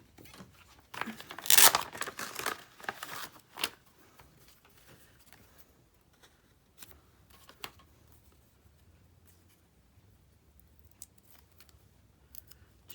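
A strip of old craft tape is pulled and torn off while making journal cards, a quick close ripping and crinkling burst followed by faint scattered rustles and taps.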